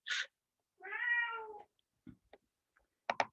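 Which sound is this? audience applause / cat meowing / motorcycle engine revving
cat meowing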